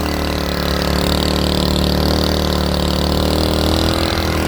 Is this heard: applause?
no